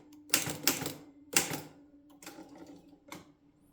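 Mercedes 8 manual typewriter keys striking in a few sharp, close clacks, with quieter mechanical taps after them and no voices.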